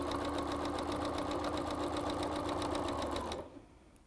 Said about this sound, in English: I'm letting my walking foot do its work.